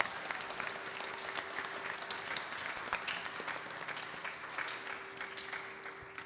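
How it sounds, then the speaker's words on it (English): Applause from an audience at a Vasant Navratri celebration, a dense, even wash of clapping that holds steady throughout at moderate distance. "I think we all should give him a big round of applause."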